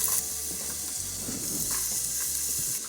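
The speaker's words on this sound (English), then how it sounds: "And then into there, you're gonna put your diced onions" Diced onions hitting hot cooking oil in a pan for a winter pork meatball soup, with a continuous close sizzle and occasional stirring clatter, no voices.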